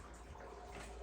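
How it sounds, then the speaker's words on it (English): Water circulating in a sous vide bath, a faint, steady, low bubbling wash that runs unbroken for about a second with no voices. "if you can hear behind me the water sound, that's our water bath"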